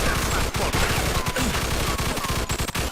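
Gunfire in a Mafia II shootout, dense rapid bursts of shots crackling loudly and almost continuously throughout.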